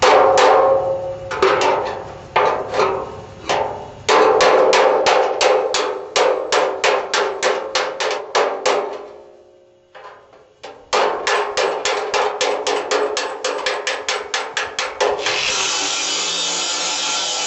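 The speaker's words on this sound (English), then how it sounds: "I'm going to use the spike and the little dolly hammer to straighten this out." Rapid, evenly spaced metallic hammer strikes from a spike and small dolly hammer straightening a hot rod grille ring out in long bursts, pausing briefly before resuming, loud and close with a sharp ringing attack.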